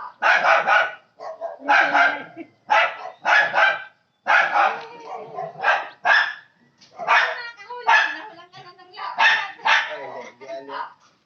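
A dog barks repeatedly in short bursts, close by, mixed with people talking over and between the barks.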